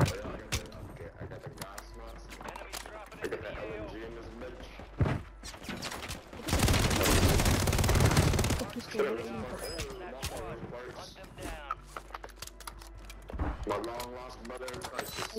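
LMG gunfire in Warzone 3 rattles out in a loud sustained burst partway through, set among scattered game effects and clicks while a player talks over the action.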